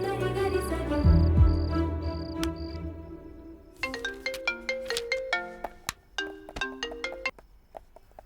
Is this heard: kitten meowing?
no